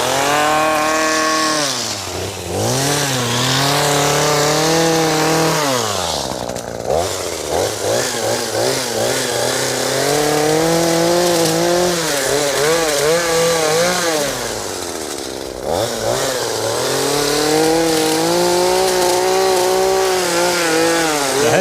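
A forester blade on a brushcutter trimming tree stumps in the yard, its loud engine whining and bogging in long sweeping surges as the blade bites into wood, with brief dips between cuts.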